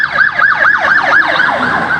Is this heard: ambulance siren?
yes